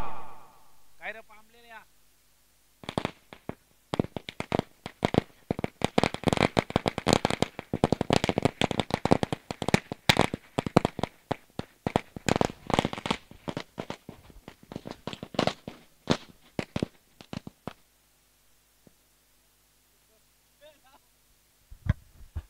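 Firecrackers crackle and pop in dense irregular bursts at the opening ceremony of a local cricket tournament, sharp and fairly close for about fifteen seconds before thinning to scattered bangs, with some voices early on.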